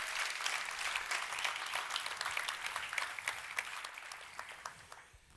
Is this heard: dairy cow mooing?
no